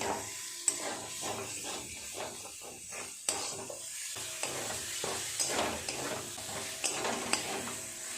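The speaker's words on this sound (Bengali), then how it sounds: "মাছের সাথে মশলাটা আরেকটু এইভাবে কষিয়ে নেব" Fried fish is sautéed in a pan with spice paste, giving a quiet sizzle broken by a regular run of scraping, stirring strokes close by, with no talking.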